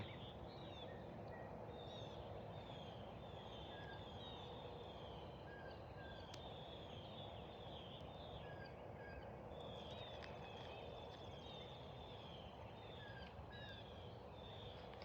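Several birds chirp and whistle in short repeated calls over a steady broadband outdoor hiss, fairly faint and scattered throughout.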